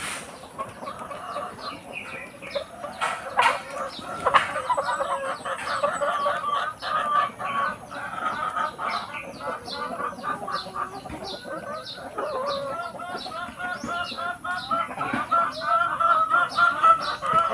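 Laying hens kept as breeders cluck steadily while being fed ripe bananas on a provincial farm, a busy, overlapping chorus of close clucks with occasional louder calls and no talking.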